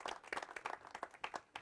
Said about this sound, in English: Please also warm applause for Father